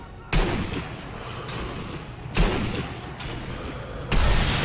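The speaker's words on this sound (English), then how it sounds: "I really like the sound of the guns." Gunfire in the game Sniper Elite 3: three heavy, booming rifle shots spaced about two seconds apart, each trailing into a long rumbling echo, with a voice talking faintly underneath.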